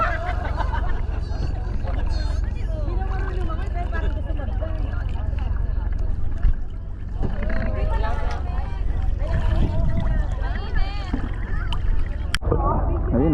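A steady low rumble of a boat motor on water in El Nido, Philippines, runs throughout, with people talking over it.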